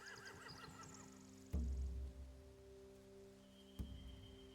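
A horse neighs loudly at the start in The Walking Dead: The Final Season, followed by a couple of sharp thuds against a quiet, humming background.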